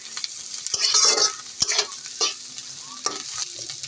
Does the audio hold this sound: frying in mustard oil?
yes